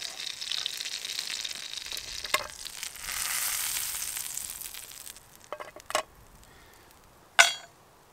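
Pancakes frying on a Trangia Mini camping stove make a soft, steady sizzle close by, with a few sharp clinks of utensil against pan and no talking.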